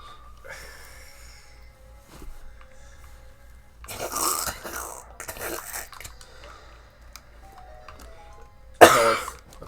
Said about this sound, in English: More of that was a cough than a laugh